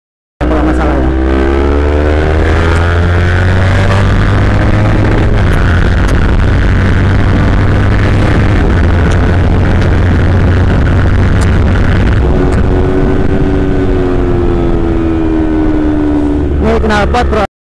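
A Kawasaki Z250 motorcycle with a standard engine and aftermarket exhaust drones loudly and close throughout, its engine tone rising and falling with throttle changes.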